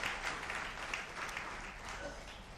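Audience clapping at a Tamil public debate (pattimandram) speech event, a dense, steady wash of many hands filling the space from start to end.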